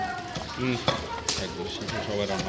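Mutton for kachchi biryani cooks in oil for a large batch, sizzling steadily with a few clinking stirs while people talk over it nearby.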